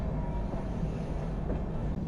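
The Udyan Express, with banker locomotives attached at the rear, rolls through Karjat station without stopping, giving a soft, steady rail rumble heard from inside the train.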